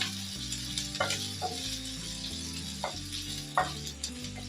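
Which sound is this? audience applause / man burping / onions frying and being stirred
onions frying and being stirred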